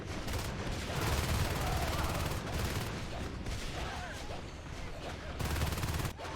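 Dense, continuous gunfire from Natural Selection 2 during a competitive league match, shotgun blasts mixed into a busy firefight with overlapping shots, loud throughout and partly masked by a commentator talking.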